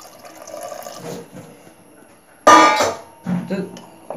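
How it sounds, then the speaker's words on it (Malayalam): About one and a half litres of heated water is poured into a cooking pot, giving one loud splashing gush midway and quieter liquid sounds around it, with some talking nearby. "അപ്പൊ നമുക്ക് ഇതിലൊരു ഒന്നര ലിറ്റർ വെള്ളം ഒഴിച്ചു കൊടുക്കാം"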